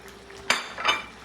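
A single metal spoon clinks against a cooking pot while stirring a chicken stew with potatoes, followed by a softer scraping stir, close and brief.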